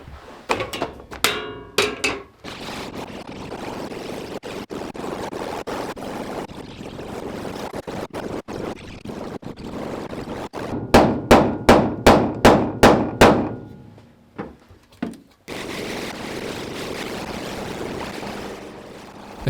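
Repeated hammer blows shaping the eave end pieces of a roof, sharp metallic strikes coming in quick bursts with a rapid series of about eight loud blows near the end, over steady outdoor wind and background noise.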